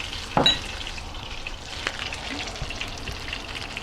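Food frying in oil in a pan over medium-high heat, a steady soft crackle and sizzle with a louder burst of spatter near the start, close and without speech.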